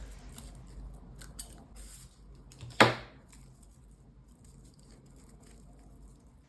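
Scissors make one crisp snip through a raffia yarn tail on a crocheted raffia hat, a short close cut against a quiet background.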